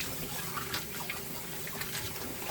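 Raw duck meat rinsed under running tap water, a steady close hiss of water with faint splashing, continuous and moderately loud.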